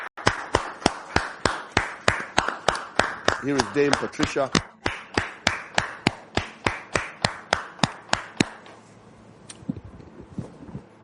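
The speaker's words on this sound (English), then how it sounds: "Dame Patricia, whom we are welcoming here now with your applause" Audience applause greets Dame Patricia, heard as a steady run of loud, evenly spaced claps that break off sharply and leave a short tail of quieter sounds. A voice speaks briefly amid the clapping.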